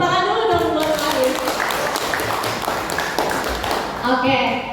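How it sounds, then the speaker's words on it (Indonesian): An audience applauds for a student named Arif at an SMK vocational school event, a dense wash of clapping running throughout with voices and shouts mixed in, the crowd sound fairly loud and close. "Tepuk tangan dulu dong buat Arif."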